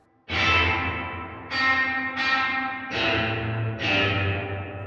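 Guitar through a dark Line 6 Helix reverb with the low and high cuts removed, five struck chords ringing out one after another, each leaving a heavy, bass-rich reverb tail, with no talking.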